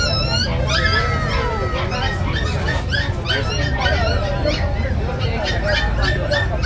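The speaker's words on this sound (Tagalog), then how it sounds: "Meron ako ditong Golden Doodle." A Golden Doodle and other dogs yip, whine and bark at a bustling pet market in Pasig, loud and close, over constant crowd babble and people talking.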